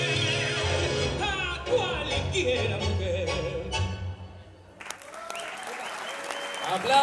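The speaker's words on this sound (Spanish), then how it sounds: "Aplauso, aplauso." An audience at a tango show in a Hungarian society hall in Villa Ángela, Chaco, breaks into warm applause over music that fades out. A fresh burst of clapping follows near the end, with a voice speaking through it.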